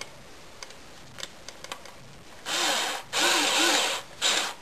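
Power screwdriver driving screws into a GE refrigerator during repair, heard as three short whirring bursts after a few faint clicks and taps.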